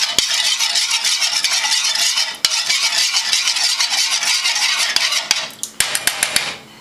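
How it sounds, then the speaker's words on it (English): A spoon stirs a Kool-Aid dye bath for yarn on the stove, giving a steady swishing wash broken by sharp clinks and knocks against the pot, with the clinks spacing out toward the end. "using, you know, any kind of spoon or anything, just gonna stir this up to mix up the dye bath"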